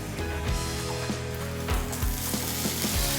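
Chopped streaky bacon fries over medium-high heat in a pan, giving a close, steady sizzle with low rhythmic scraping and shuffling as the pieces are moved around.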